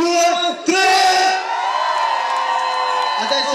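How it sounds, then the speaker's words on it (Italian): A live audience lets out a loud, sustained group shout and whoop on cue at a New Year's Eve concert, a continuous roar of voices that fills the whole stretch, with a brief dip near the start. "al mio 3 un forte urlo seguito da un applauso"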